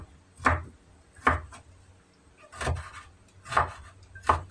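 A knife slices preserved cabbage (mei cai) into small pieces on a cutting board, with five soft, separate chopping thuds at an uneven pace, close and quiet.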